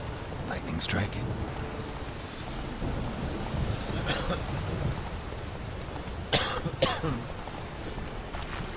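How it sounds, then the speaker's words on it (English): Thunder rumbles through steady rain in The Witcher 3, with several sharp crackling strikes standing out above the constant downpour hiss, the loudest two close together near the end. "Lightning strike."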